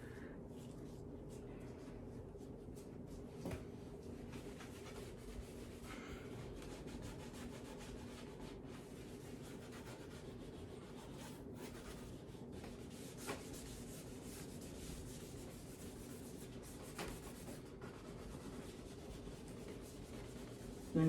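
A cloth buffs wax into wooden furniture, working along the grain with a steady, soft, continuous rubbing sound, faint and close, with no voices.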